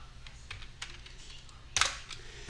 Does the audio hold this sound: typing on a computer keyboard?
yes